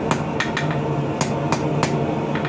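Hammer blows on hot metal while forging and fitting the socket of a medieval leaf-bladed arrowhead around a bar, with sharp, close, ringing strikes in an uneven rhythm, about ten over two and a half seconds, and no talk.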